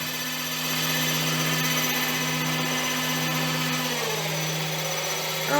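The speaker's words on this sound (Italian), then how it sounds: "è un motore molto forte questo" A strong geared electric motor driven by a single-phase 220V AT2 inverter hums and whines steadily at low speed, a constant tonal drone that shifts slightly in pitch near the end.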